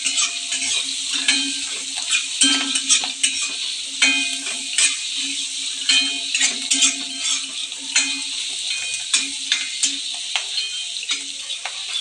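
Poha mixture with turmeric, salt and sugar frying and being stirred in a pan, giving a steady sizzle with repeated scraping and stirring clinks throughout, close and fairly loud.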